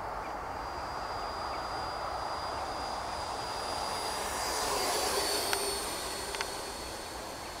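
An Arrows Hobby BAE Hawk RC model jet at about half throttle passes by with a steady, airy electric ducted-fan whine and rushing noise that swells gently as it nears, then eases off.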